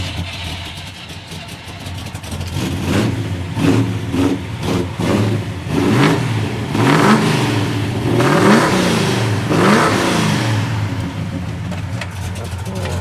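A 1966 Chevelle Super Sport, an original SS car, revving with a lumpy cam lope, the engine rising and falling in several throttle blips close by, with voices talking over it.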